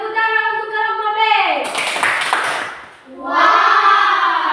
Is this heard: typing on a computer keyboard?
no